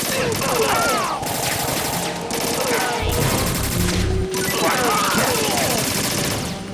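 Continuous rapid gunfire from the video game Metal Gear Solid 2 Substance, loud and sustained with brief gaps, while a voice speaks over it.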